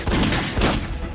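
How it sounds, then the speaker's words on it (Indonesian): A film shootout between a gunman and police: a quick burst of several loud gunshots cracks out close by, in a rapid cluster. "Terjadi tembak-menembak antara Mile dan polisi."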